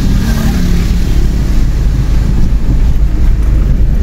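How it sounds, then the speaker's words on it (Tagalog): Strong wind buffets the microphone outdoors near a wet market, making a loud, constant low roar with no pauses. "Pero malakas ang hangin."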